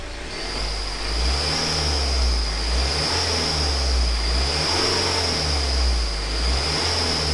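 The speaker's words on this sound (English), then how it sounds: "That belt squeal's doing me in. That's got some antifreeze on the belt and it's made it squeaky." A BMW 318d N47 diesel engine runs with a steady throbbing rumble while a continuous high-pitched belt squeal, caused by antifreeze on the belt, rings over it throughout, fairly loud and close.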